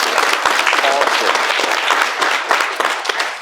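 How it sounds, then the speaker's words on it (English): An audience at a talk-show-style couch session bursts into loud, continuous applause, with a few voices mixed into the sustained clapping. "give him another applause"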